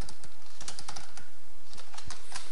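Rapid typing of code on a computer keyboard, a quick uneven run of crisp key clicks in small bursts with short pauses, close and clear with no voices.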